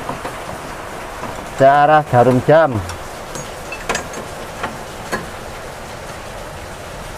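Rain falls steadily during a tune-up of a Toyota Kijang Super engine, making a constant broadband hiss with scattered drip-like ticks. A voice speaks briefly over it, and a few short tonal sounds cut in.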